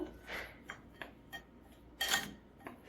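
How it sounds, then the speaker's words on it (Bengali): Sugar and salt are stirred together in a bowl with a spoon, giving about seven quiet, evenly spaced clinks and scrapes over a few seconds. "স্বাদ মতন চিনি দিয়ে দেব পরিমাণ মতন লবণ দিয়ে দেব একসাথে ভালো করে মিশিয়ে নেবো"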